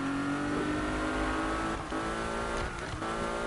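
A car engine revs continuously while driving in a PS4 game, a loud sustained drone with a couple of brief dips in pitch and intensity, heard alone without talk.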